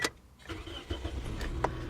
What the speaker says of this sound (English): Let me go ahead and start the car.